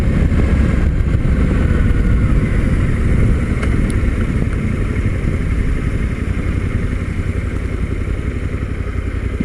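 A Suzuki V-Strom 800 motorcycle rides through city traffic, squeezing between lanes, with a loud, continuous engine drone and wind rush throughout.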